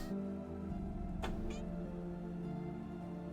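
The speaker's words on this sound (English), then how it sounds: "my cats are going nuts" Pet cats meowing indoors, one sharp rising meow followed by a shorter, fainter one over a steady hum and low background tones.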